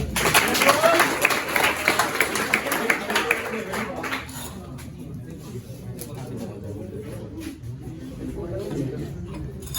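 A crowd at a New Year party bursts into applause mixed with chatter for about four seconds, then the clapping fades into a low murmur of voices.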